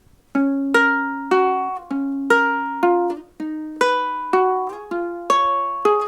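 A ukulele strums the chord progression of a country song in clean, evenly spaced strokes, each chord ringing out and decaying before the next, played close up with no singing or talk.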